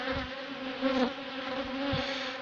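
Honeybees buzz steadily around a small, healthy hive from a split colony, a continuous close insect drone with individual bees passing nearby, no talking.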